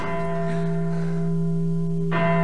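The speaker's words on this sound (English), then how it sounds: "The bell of St. Mark's" The bell of St. Mark's rings in a radio play of Brecht's Life of Galileo, a loud, sustained tolling tone with overtones, struck again just before the end.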